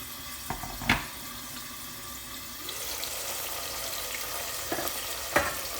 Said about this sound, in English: I forgot to tell you that in this recipe you need to add hot boiling water